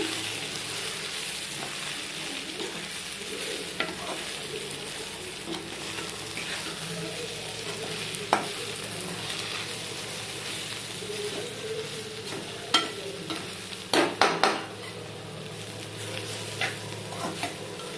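Village-style brinjal fry being tossed with a spice powder in a pan: low sizzling with occasional spatula scrapes and clacks, a brief cluster of louder knocks near the end, close and quiet.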